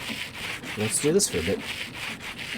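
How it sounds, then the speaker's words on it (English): Sandpaper in Minecraft (Create Astral modpack) rasps rhythmically while polishing rose quartz, a repeated scratchy rubbing in quick strokes, with a person talking over it. "let's get some sandpaper, let's polish these up"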